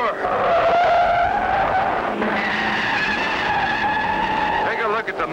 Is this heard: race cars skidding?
yes